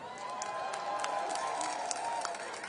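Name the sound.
audience applause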